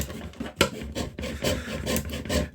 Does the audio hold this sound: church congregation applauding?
no